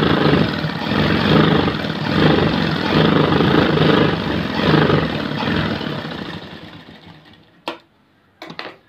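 Electric sewing machine running steadily while stitching a seam on a chudidhar pant, a continuous close whirr that winds down near the end, followed by a few brief clicks and handling taps.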